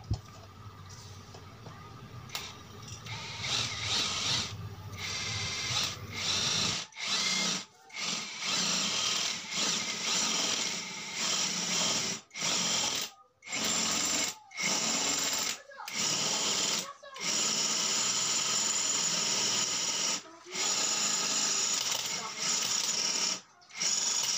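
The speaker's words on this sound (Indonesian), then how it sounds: "sekarang kita lakukan pengeboran pada besi" Impact wrench drilling into iron, a loud grinding, whirring run broken by repeated short stops and restarts, close to the microphone with no talk over it.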